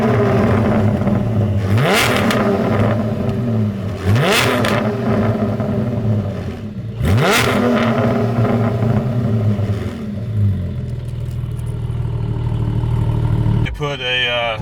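A car fitted with a Soul Performance exhaust is revved hard three times, each rise climbing to a loud scream and falling back to a rumbling idle, with a sharp clatter at the very end.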